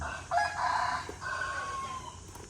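A rooster crows once in a neighbourhood in Da Nang, Vietnam, a drawn-out call heard at moderate distance over a low, steady outdoor hum.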